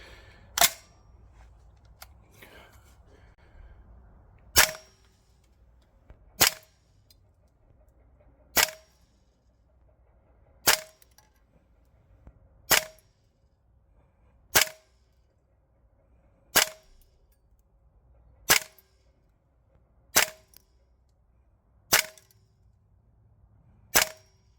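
An MWS gas blowback rifle from Guns Modify fires 0.25 gram BBs on green gas: about a dozen sharp, loud single shots spaced roughly two seconds apart, each with a brief mechanical clack, against a quiet background.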